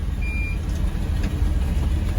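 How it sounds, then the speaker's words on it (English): An old truck's reverse alarm gives a brief high beep over a loud, steady idling engine rumble. "it's got that lovely reverse alarm"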